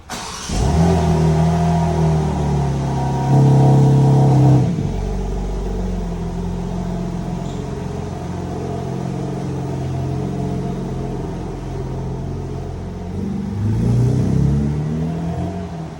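A 2024 BMW M4 Competition xDrive engine starts and revs nearby, then rumbles steadily as it pulls away, with another rev swelling near the end.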